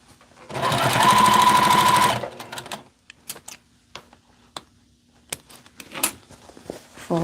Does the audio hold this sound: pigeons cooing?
no